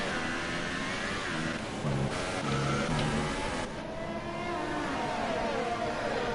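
Formula 1 cars race in the F1 2018 video game at the Belgium round, a train of several engines droning and whining past together in a steady mechanical roar with brief surges.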